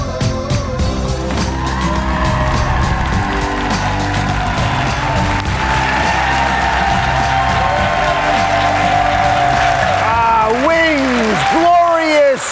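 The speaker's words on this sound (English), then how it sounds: "That's why you're all really applauding" Studio audience at a Dr. Oz show applauding and cheering: dense clapping and whoops sustain throughout, with music mixed in and a few sharp swooping sounds near the end.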